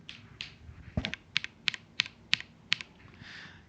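Keystrokes on a computer keyboard, a quick run of sharp clicks in small bursts with brief pauses, close and fairly clear against a quiet room.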